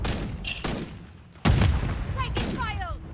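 Call of Duty Modern Warfare III gunfire sounds as a few close, heavy shots, one especially loud blast midway, with a brief in-game voice and effects tones around them.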